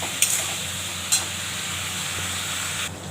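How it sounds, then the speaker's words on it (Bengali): Cabbage curry with ginger and chili being stirred in a hot pan, a steady sizzling hiss with two short scraping clatters of the spoon, close and unbroken until it cuts off near the end. "এবার নাড়বো।"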